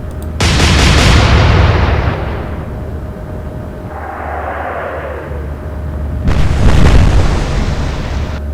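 A naval gunfire salvo in the Atlantic Fleet game, Royal Navy against Kriegsmarine: a loud, deep booming blast that rumbles away, a softer whooshing lull, then a second heavy boom near the end.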